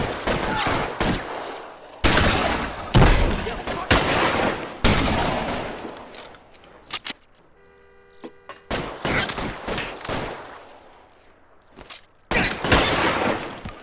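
Gunfire and shotgun blasts from the L.A. Noire game come in loud, close bursts and rapid volleys, broken by a short quieter gap with a faint tone before the shooting resumes.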